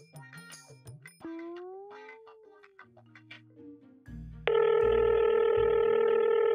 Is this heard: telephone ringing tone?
yes